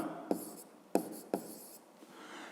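A pen writes an answer to a fifth-grade maths exercise in a notebook, with three quick faint scratchy strokes followed by soft continued scribbling, close and quiet.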